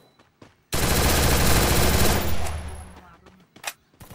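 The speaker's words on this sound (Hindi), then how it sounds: "वो फायर मत कर यार, फायर ही करता है बंदा" Automatic gunfire in the Free Fire video game, a loud continuous burst of rapid shots lasting about two seconds that fades out, followed by a few scattered single pops, with a player talking faintly before and after.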